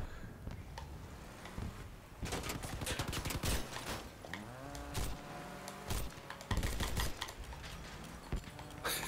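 Gunfire in the vehicle combat game Crossout rattles in rapid, dense bursts of repeated shots at moderate volume, with heavier impacts mixed in throughout.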